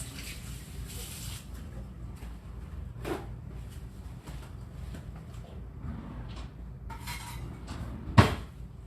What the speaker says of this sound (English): I gotta open a drawer.